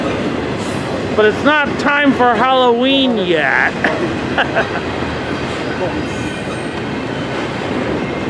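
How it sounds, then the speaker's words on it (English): A Z freight train hauling orange trailers passes near a trackside spot, with continuous rolling rumble and clatter and a cluster of bright squealing wheel tones early on, while a person talks over it. "Okay, this is a Z train."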